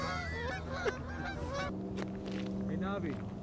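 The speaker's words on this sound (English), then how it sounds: "Look at the geese." Geese honk repeatedly outdoors beside water on a fishing outing, a steady run of overlapping calls, some close and some farther off, with faint children's voices mixed in underneath.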